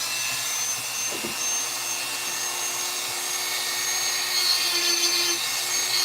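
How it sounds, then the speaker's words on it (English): A brand-new burr on a power carver grinds into rock-hard maple wood, a steady high-pitched whirring rasp that runs unbroken and fairly loud throughout, with no voices. "let's just see what this brand new burr, how it likes this rock hard maple"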